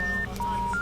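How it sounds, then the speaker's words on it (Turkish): A telephone in a video game sounds a series of electronic beeping tones at different pitches, one after another, loud and clear with no talk over them. "o telefon daha çalıyor mu ya?"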